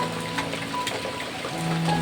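Steady rain falls continuously at a market, a soft, even hiss with scattered drips and a faint low hum underneath.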